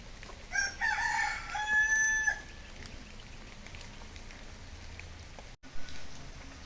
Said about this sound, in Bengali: আমাদের দেশি মুরগি,